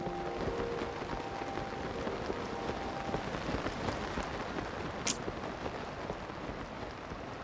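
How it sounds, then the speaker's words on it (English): Steady rain falls in Zelda: Tears of the Kingdom, a dense even hiss of drops on surfaces, close and constant, with a faint tonal game sound early on and a brief sharp click midway. "the rain is hindering me"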